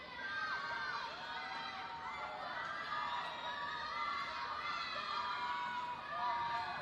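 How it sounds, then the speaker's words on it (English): Spectators at a youth swim meet cheer and shout for a nine-year-old swimmer in a regional championship, a steady, fairly distant wash of excited voices and children's yells with no clear break. "Crowd is getting a little animated here, cheering for Lydia Toth"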